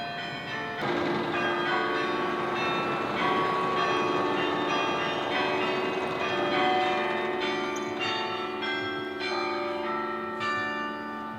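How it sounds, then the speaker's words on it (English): Tower carillon bells in Victoria, BC ring out a loud, sustained melody, with overlapping struck tones and long ringing decay continuing steadily throughout. "It's bells basically in this tower, and it plays music."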